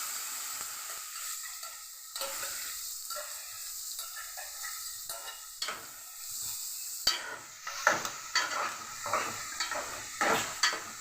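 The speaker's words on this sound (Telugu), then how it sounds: "ఉల్లిపాయలు వేగుతూ ఉండగానే" Onions fry in hot oil for a broad bean and fish curry, a continuous bright sizzle with a spoon scraping and stirring the pan, the stirring growing busier toward the end.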